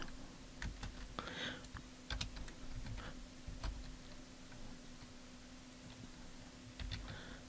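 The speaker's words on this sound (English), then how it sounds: "Just type my personal budget." Soft keystrokes on a computer keyboard while entering a personal budget into a spreadsheet, scattered irregular clicks at low level against a faint steady hum, no talking.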